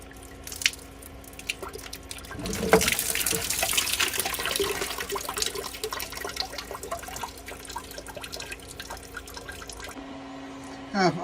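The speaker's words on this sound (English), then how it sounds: "And more water is going to come out" Water drips and trickles from a pipe after its check valve is partly unscrewed, steady splashing with irregular drips and clinks of metal tools, with occasional low talk nearby.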